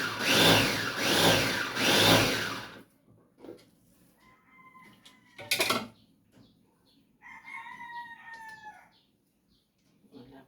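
Chickens are heard up close: a loud rooster crowing in rising phrases at first, then scattered clucks and a short squawk with quieter calls following, faint engine hum beneath.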